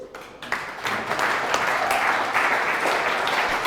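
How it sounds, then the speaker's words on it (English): Audience applause at a live startup pitch event as the final speaker is welcomed, a swelling wash of clapping with a few sharper claps, rising after a quiet start and holding steady. "a big round of applause for Elliot Smith"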